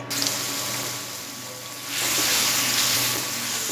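Banana flower paste frying in oil in a pan, a steady close hiss that swells louder about halfway through and holds at that level.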